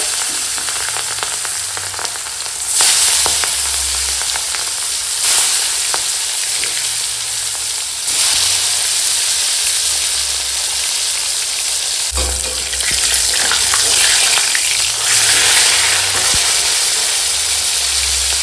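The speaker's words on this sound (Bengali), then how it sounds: "তো চলো এখন মাছ ভেজে নেবো তেল গরম হয়ে গেছে" Pieces of catla fish rubbed with salt and turmeric sizzle and spit steadily in hot oil, a loud continuous fry with bursts of crackle as the pieces shift in the pan.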